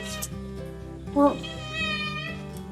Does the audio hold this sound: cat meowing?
yes